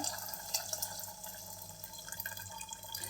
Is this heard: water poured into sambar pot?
yes